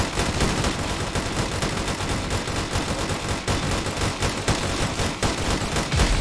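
Dense, continuous gunfire from a turret and spammed rockets in a limit-only challenge video game, a loud unbroken barrage of rapid shots and blasts with no talking.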